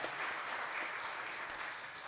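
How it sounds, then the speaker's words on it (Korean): A church congregation claps during an award presentation at a Sunday morning service, a dense, steady patter of many hands filling the room at moderate volume throughout. "상장과 상품을 전할 때 박수해 주시겠습니다"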